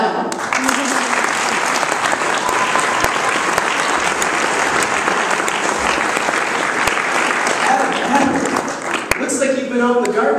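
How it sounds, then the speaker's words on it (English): A church audience gives a warm round of applause for a contestant in an idol-style skit, dense steady clapping throughout with occasional sharp individual claps and a voice briefly heard near the end. "Let's have a warm round of applause."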